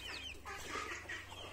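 Chickens clucking inside a coop on a poultry farm, a dense chorus of overlapping squawks and clucks close by with steady low hum underneath, no talk.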